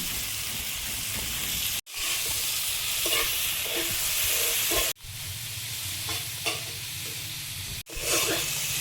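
Ivy gourd stems are stirred in hot oil in a frying pan: a loud, steady sizzle with scraping stirs, broken by two or three abrupt cuts before the frying resumes; no one speaks.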